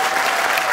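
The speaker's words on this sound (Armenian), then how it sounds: "բարձր ծափարենք հայ ազգին" Audience applause from a crowd at a gathering, a brief, loud burst of dense clapping that stays at the same level from start to finish.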